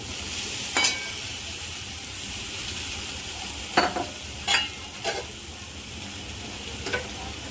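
Poha tossed into softened onions in a pan, a steady soft sizzle with several distinct scraping stir strokes of a spatula against the pan, close and alone with no talk.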